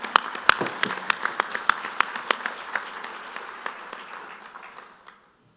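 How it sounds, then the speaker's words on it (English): Audience applause at the American Quarter Horse Association membership general meeting, a steady round of clapping from the crowd that builds, holds, then thins out and stops near the end. "let's give them one more round of applause"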